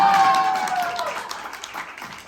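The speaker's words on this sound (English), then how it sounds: "One more round of applause for Brandon." Audience applause fills a dinner event honoring generational heroes, a dense, steady wash of clapping that stays fairly loud throughout and eases off slightly toward the end, with a faint tone fading out at the start.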